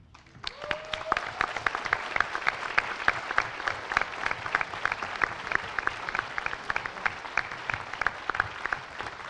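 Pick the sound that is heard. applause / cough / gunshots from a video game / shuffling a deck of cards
applause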